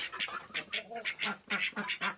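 Several ducks quacking nearby in quick, overlapping bursts, loud and close.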